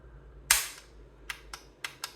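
Trigger of an FB Radom Beryl AK fitted with a FIME Enhanced fire control group: one loud, sharp snap of the pull, then four lighter, crisp reset clicks spaced about a quarter second apart, close up with no talking.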